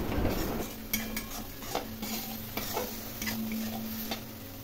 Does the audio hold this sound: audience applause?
no